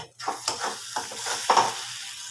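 Ginger garlic paste fries in a pan with a steady sizzle, broken by several scraping stirs of a spatula, close up and without talk.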